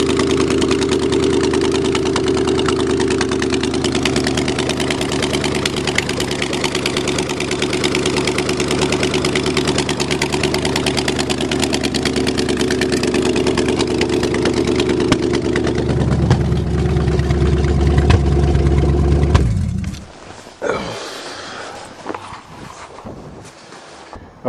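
A Chevy engine idles steadily after a cold start, a loud, even, close rumble that holds for about twenty seconds before cutting off abruptly, leaving quieter ambient noise.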